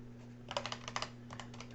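Quick bursts of keystrokes clatter on a computer keyboard, close and crisp, in irregular clusters over a steady low electrical hum.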